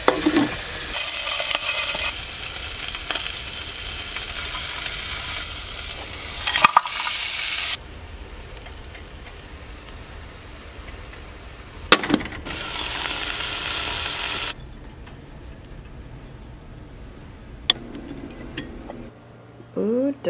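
Chicken breast fries in a small amount of olive oil in a pan, with bursts of sizzling broken by quieter gaps and a few sharp clatters from utensils against the pan.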